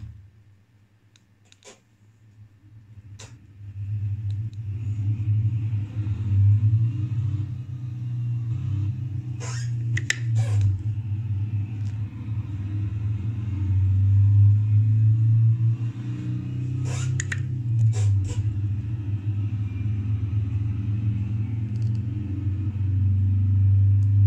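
A VW camper's engine rumbles low and steady in a racing video game, driven through an H-shifter, the note swelling and holding for about twenty-four seconds with a few faint clicks on top.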